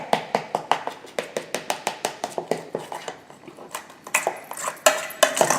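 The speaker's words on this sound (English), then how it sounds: "I'm just going to whisk it really hard to get it lump free" A whisk clatters rapidly against a bowl in quick, rhythmic metallic taps, beating gluten-free chocolate cinnamon soufflé batter, close and fairly loud, with no talking.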